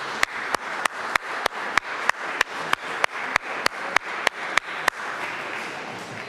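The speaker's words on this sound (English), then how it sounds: "let's give ourselves some applause" A church congregation at a Sunday Unitarian Universalist service applauds, blending into a soft wash, while one loud, near clap repeats at an even beat roughly every third of a second and then stops.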